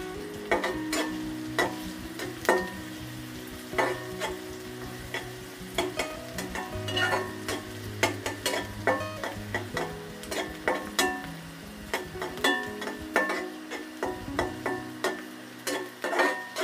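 Chopped onion and garlic fry with egg in a pan for Maggi soupy noodles, giving a steady sizzle broken by rhythmic spatula scrapes and taps against the metal, close and clear with no talk.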